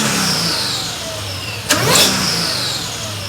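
Mercedes E55 with a supercharged M113K engine and an upgraded 92mm throttle body starts up: a sudden catch and brief rev flare, then it settles into a steady, even idle close by.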